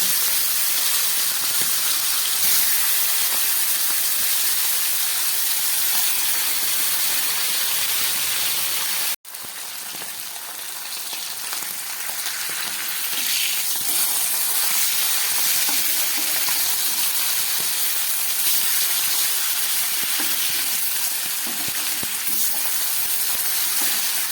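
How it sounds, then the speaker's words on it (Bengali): Fish fries in mustard oil in a wok with a loud, steady, dense sizzle and hiss that runs throughout, broken by a momentary dropout near the middle, with no speech. "এই তেলে আমি মাছগুলোকে ভেজে নিচ্ছি।"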